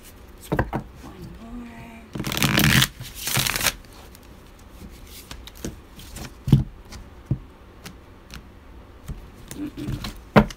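Tarot cards are shuffled in a couple of brisk riffling bursts, followed by scattered light taps and card handling, with faint speech nearby.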